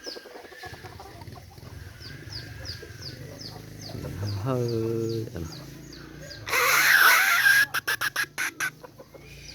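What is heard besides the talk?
chickens clucking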